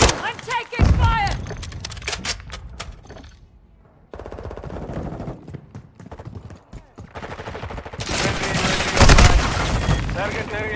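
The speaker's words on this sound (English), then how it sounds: "I'm taking fire!" Bursts of rapid gunfire in the video game Modern Warfare 2 during a Hardpoint match, loud and close, broken by a short lull and returning in dense volleys with game voice lines mixed in.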